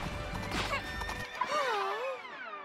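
Horse whinnying in the Princess Peach Showtime video game, a loud descending neigh with wavering pitch following a brief burst of galloping hoofbeats and a crash, heard close and without speech.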